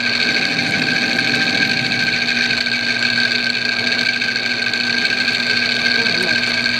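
A lathe facing off a scrap piece of aluminum gives a steady, even machining whine with sustained high tones, loud and close, running throughout with someone talking over it.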